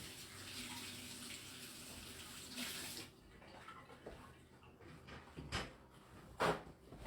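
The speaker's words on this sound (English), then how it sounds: "Wash my hands." A kitchen faucet runs steadily for a few seconds while hands are washed, then cuts off, followed by faint clunks and knocks of cupboards or drawers nearby, with no talking.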